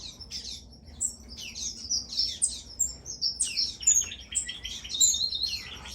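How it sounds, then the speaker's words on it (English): Small seed-eating birds in an outdoor farm aviary chirp and squawk continuously in overlapping bright, high calls, fairly close and lively, with no talking. "I really like those birds. They sing and they're very sweet."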